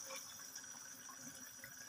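Cooking oil is poured into a pan of black pepper chicken karahi, a quiet, steady liquid hiss lasting a couple of seconds with no talking.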